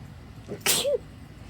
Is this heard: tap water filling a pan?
no